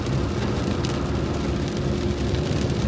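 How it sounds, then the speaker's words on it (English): Heavy rain pelting a car during a drive with the windshield wipers running, a dense, steady and fairly loud wash of noise that fills the whole clip, with no distinct wiper rhythm standing out and no one talking. "I hope you guys can hear me over the sound of the rain and stuff, the windshield wipers."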